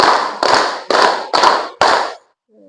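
A group claps in unison exactly five times in an even, quick rhythm, close and loud, at a community anti-drug outreach event, followed by silence.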